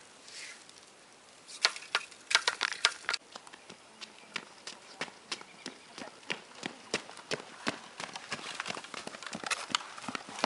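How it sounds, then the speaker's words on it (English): Hooves clip-clop in a steady, fairly quick rhythm, starting faint and growing louder and closer, with sharp clattering strikes over a quiet background. "Hark, I hear horses."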